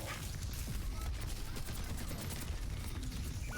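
Gunfire in the video game Overwatch 2, dense continuous rapid shots forming a loud unbroken fusillade for several seconds, with no talk.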